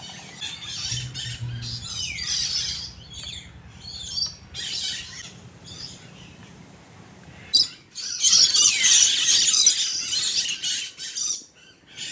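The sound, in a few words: birds calling at a bird park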